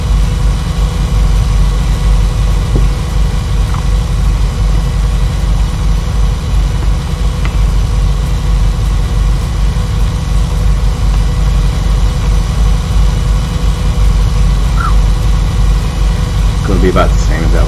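A large tractor engine in a Farming Simulator tractor pull drones steadily at a low, loud, even pitch, creeping along at about one mile an hour.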